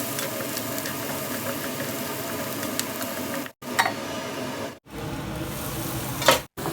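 Sliced onions with a pinch of turmeric and salt sizzle steadily in a pan for a village-style ivy gourd masala curry, a continuous close frying hiss broken by brief stirring pauses, with no talking.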